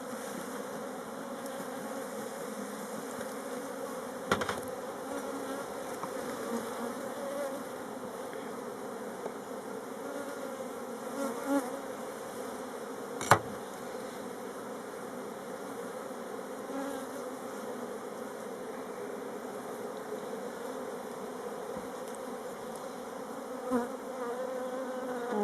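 A honey bee swarm being moved from a small nucleus box into a full hive fills the air with a steady, dense buzzing drone, with a few faint clicks and knocks and no talking.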